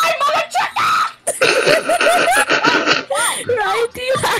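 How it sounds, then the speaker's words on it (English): A girl playing Minecraft screams, shrieks and laughs in loud, rapid, high-pitched bursts close to the microphone, mixed with excited exclamations. "Do you have to scream?"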